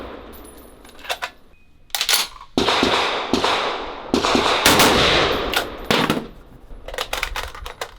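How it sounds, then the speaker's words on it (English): A cheap Chinese M14 clone rifle fires outdoors from a standing shooter, loud sharp reports coming in quick pairs with short pauses between, plus metallic clicks and handling noises around them. "we're gonna try shooting standing up and we'll do a couple reloads. Just gonna try double taps."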